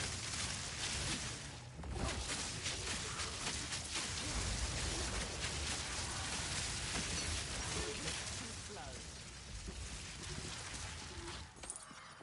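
Steady rain in the video game Path of Exile 2, falling continuously as a dense hiss, with no breaks across the span.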